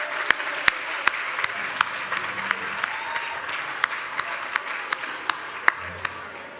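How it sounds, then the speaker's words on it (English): Sparse audience clapping at a community awards program, a steady run of individual hand claps over a soft crowd murmur, fairly close and moderately loud, going on for several seconds without talk. "Start clapping."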